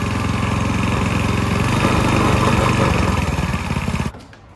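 A Predator 224 engine on a vintage go kart runs loud and close with a steady pulsing chug and brief revs, then cuts off abruptly near the end.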